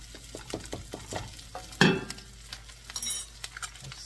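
Ingredients for jumbo shrimp fried rice are stirred in a hot pan, a utensil scraping and clinking rhythmically over a soft sizzle, with one sharp loud clank midway.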